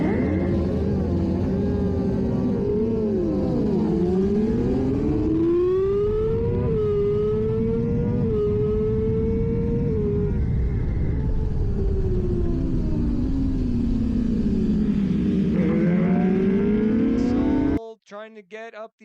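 Race motorcycles at a CMRA superbike race at COTA accelerate hard at the start, their engines wailing loudly through rising and falling gear changes, several bikes together, before cutting off abruptly near the end.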